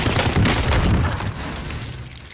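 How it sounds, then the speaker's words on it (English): Bison SMG firing in Call of Duty Warzone, a loud continuous burst of rapid automatic gunfire up close that eases off slightly toward the end. "Obviously, this is a Bison, so it is an SMG built for a little bit of hip fire"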